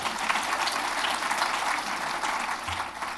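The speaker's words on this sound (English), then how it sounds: "You can applaud her." Steady, dense audience applause fills a convention hall at a Project Inspire event in 2025, sustained throughout at an even, moderately loud level.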